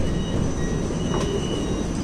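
An MRT train in Kuala Lumpur, Malaysia, gives a loud, steady rumble of running on the rails, with a faint high whine and a brief squeal in the middle.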